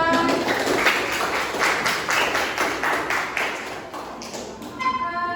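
A classroom group gets applause from students, heard as a few seconds of scattered, irregular clapping at moderate level, with some voices mixed in.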